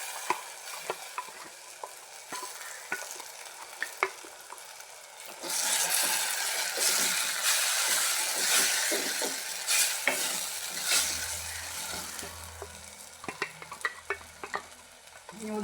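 Tempering for Goan amat sizzles loudly in a pan, with a spoon scraping and stirring through the hot oil in quick, uneven strokes.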